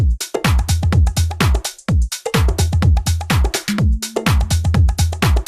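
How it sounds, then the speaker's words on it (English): A basic tech house drum beat programmed in Ableton: steady four-on-the-floor kicks with crisp hi-hats and claps, loud and close, looping with no voice. "yesterday we made a basic drum beat which sounds like this"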